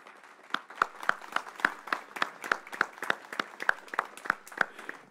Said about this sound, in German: wir begrüßen euch mit einem kleinen Applaus